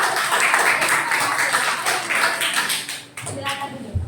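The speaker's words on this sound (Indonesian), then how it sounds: "mari kita kasih tepuk tangan yang meriah." Classroom audience applause for group presentations, lively clapping that runs about three seconds, with a teacher's voice talking over it and continuing after the clapping fades.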